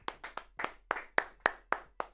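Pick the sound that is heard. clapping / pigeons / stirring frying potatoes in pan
clapping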